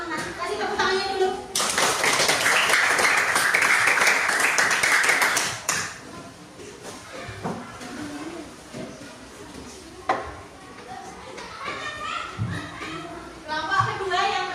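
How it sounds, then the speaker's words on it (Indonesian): Classmates clapping in a classroom, a burst of dense applause lasting a few seconds before fading into scattered taps and children's chatter, with a teacher's voice speaking before and after. "Kasih tepuk tangannya dulu."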